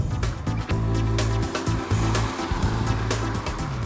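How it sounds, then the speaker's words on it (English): Engine noise from a Maruti Suzuki Ciaz heard inside the cabin while driving, a steady droning hum with tonal whine that shifts slightly in pitch, loud and continuous with faint rattles. "for this car, there is a fair amount of engine noise that still creeps into the cabin"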